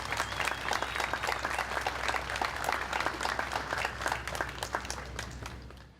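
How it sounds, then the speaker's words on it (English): Audience applause at a July 4th patriotic program, a crowd clapping steadily at moderate distance and fading slightly at the end. "How about a round of applause for these young leaders?"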